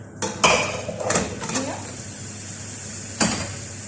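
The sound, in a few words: adding meat into a cooking pot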